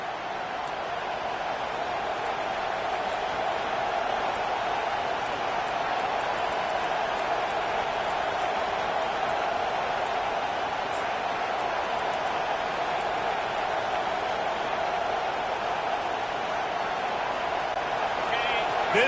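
A football stadium crowd at an Alabama vs Florida State game cheers for the defense, making a sustained, even roar that carries on without breaks for the whole stretch.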